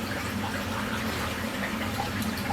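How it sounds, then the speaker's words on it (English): Steady pump drone with running, splashing water during an aquarium water change, a continuous even wash of liquid sound throughout, close and moderately loud with no talk. "Gotta be quick because I'm doing a water change, and I can't leave the pump running too long"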